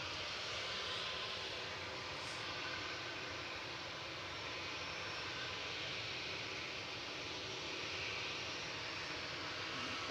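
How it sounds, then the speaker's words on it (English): An SAS Airbus A320neo departing Manchester Airport gives a steady, broad jet engine roar that holds loud and continuous from start to finish, with no talk over it. "SAS 2548 heading back to Stockholm Arlanda, A320 Neo"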